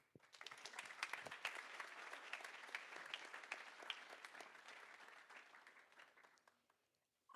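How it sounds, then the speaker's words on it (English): An audience applauds at a tech meetup event, a dense burst of clapping that swells quickly, holds for several seconds and gradually fades out. "A warm applause."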